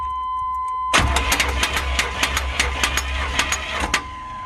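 A car engine runs roughly with one valve cover removed, a loud steady drone punctuated by sharp, irregular ticking or knocking bursts after a sudden start about a second in, with no talk over it.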